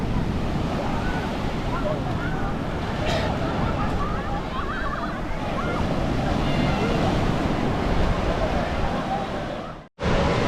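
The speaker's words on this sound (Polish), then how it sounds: "Te fale dosyć duże." Large ocean waves break with a continuous roar and wind buffeting the microphone, and faint voices murmur in the background before a brief cut near the end; on the Ligurian coast near Sestri Levante.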